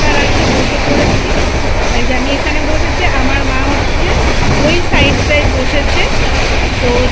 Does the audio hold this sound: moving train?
yes